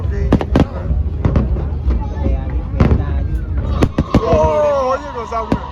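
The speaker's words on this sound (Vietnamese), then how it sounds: "Đứng chân địa pháo bắn nổi nhìn rõ ở dưới bắn lên đây." Ground-launched fireworks over Ha Long Bay pop and crack in a rapid irregular series of sharp bangs, loud and close, followed by whistling and crackling trails while a crowd murmurs and people talk.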